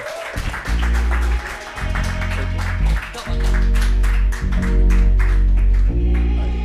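A crowd claps and cheers throughout, loud and close, as a DJ wraps up a live talk show event, with booming bass-heavy music playing underneath the steady applause.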